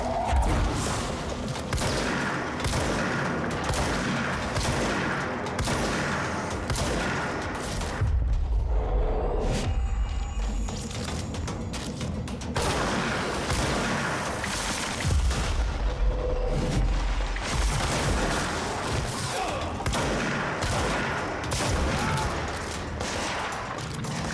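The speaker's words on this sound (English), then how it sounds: "I don't think all these gunshot sounds are helping the plants relax." Sustained gunfire from the video game Control: dense, loud bursts of shots and booming impacts fire almost without pause, with a brief lull midway and occasional speech underneath.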